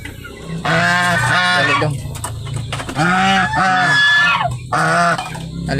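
Geese honk in loud, close, repeated bursts of nasal calls, several overlapping in quick runs separated by brief pauses.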